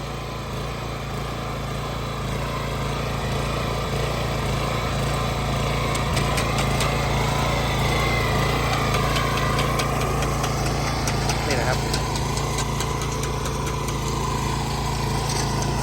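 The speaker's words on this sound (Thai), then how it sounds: "นี่เป็นเครื่องยนต์เบนซินนะครับ" The small petrol engine of a walk-behind rotary tiller runs steadily close by, a continuous rattling drone with a faint rise in revs toward the end, no talking.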